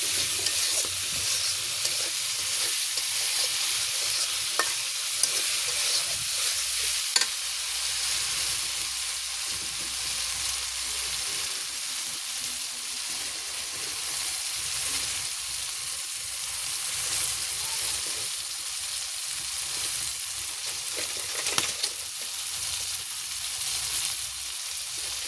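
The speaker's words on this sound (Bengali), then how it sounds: "আজকে আর ভাজবো না পাঙ্গাস মাছটা, আজকে এমনি কষিয়ে রান্না করব।" Pangas fish braises in a pan with spices, a steady close hiss of sizzling oil running throughout, with a few faint clinks of a utensil and no voices.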